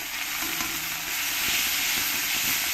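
Onion paste sizzles loudly in hot oil with curry leaves for a South Indian fish curry, a close, steady frying hiss with faint stirring taps underneath.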